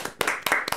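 A few sharp, loud bursts of hand-clapping from a studio audience on a Greek talk show, quick uneven claps close to the mic in under a second.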